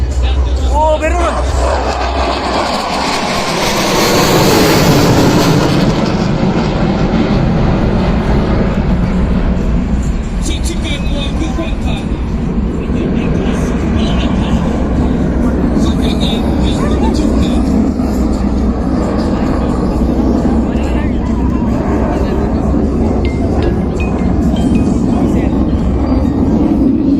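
Military aircraft roaring past at an Air Force Day flying display, a loud sweeping jet rush that peaks early and then settles into a sustained rumble, with spectators chatting throughout.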